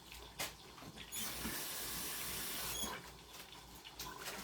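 Tap water runs steadily into a kitchen sink while something is rinsed off under it, a fairly quiet broadband wash with no talking, made during home cooking of Salisbury steak with gravy.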